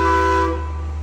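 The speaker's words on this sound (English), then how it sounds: "The train is actually in the station." Horn of a train at the Six Flags Over Georgia railroad station, a loud steady multi-tone blast that holds for about half a second, then drops to a quieter sustained hum over a low rumble.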